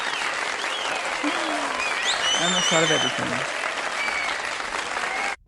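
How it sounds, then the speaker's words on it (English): Recorded applause sound effect played during a live online session, a continuous clapping wash that holds steady for about five seconds, then cuts off abruptly, with a person speaking and exclaiming over it. "now the applause is coming late"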